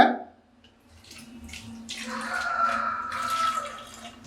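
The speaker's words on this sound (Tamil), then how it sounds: "3வது வாட்டர் பாட்டிலில் பெட்ரோல் ஊற்றிக்கோங்க." Petrol is poured into a plastic water bottle, starting with a few faint splashes, then growing into a steady, gurgling liquid stream that runs on to the end.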